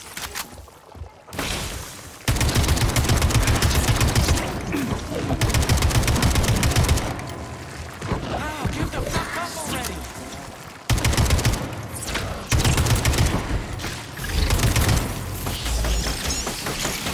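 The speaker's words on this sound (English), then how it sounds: "Back to the machine gun." Bursts of machine gun fire in the video game Atomic Heart, loud sustained rattling volleys broken by short pauses, with a quieter stretch in between.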